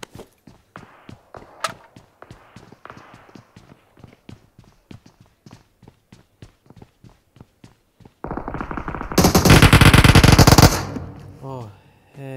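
Rapid gunfire from a weapon in the mobile battle-royale game PUBG Mobile, a long run of sharp evenly spaced shots followed by a loud dense burst near the end, close and punchy.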